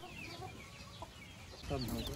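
Five-month-old native and heritage chickens cluck softly in a farm setting, scattered calls growing busier and louder toward the end, with faint voices nearby.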